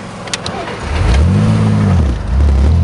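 A car engine revs up after a gear change, the pitch rising and falling in a loud close surge before climbing again, while faint voices sit underneath.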